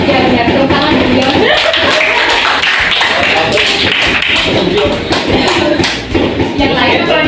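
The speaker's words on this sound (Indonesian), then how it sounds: "Ya, tepuk tangan ya" Students in an Indonesian classroom clap together during a problem-based learning lesson, a dense, steady patter of many hands at close range with voices mixed in throughout.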